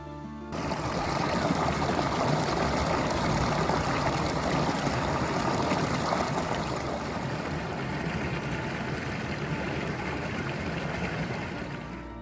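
A steady, dense roar of rushing water fills the scene continuously, loud and broadband like nearby falling water, at Aysgarth Falls in Yorkshire, England.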